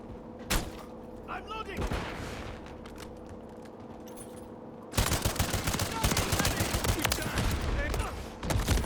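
Sustained automatic gunfire in Call of Duty MW3 runs through the whole stretch, a dense rattling burst emptying a magazine, loudest in the second half, with a voice talking over it.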